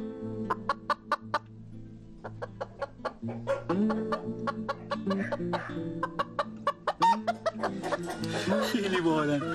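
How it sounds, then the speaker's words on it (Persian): Hens cluck in a nomadic Shahsavan camp in Iran as they come in to lay eggs, a lively close chorus of rising calls and bursts of clucking that grows busier toward the end. "خیلی باحالن مرغا اومدن این تخم میکنن"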